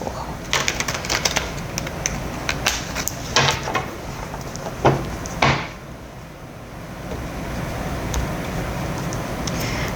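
Quick papery riffling bursts from a deck of tarot cards being shuffled, repeated several times close by, over a faint steady background hum.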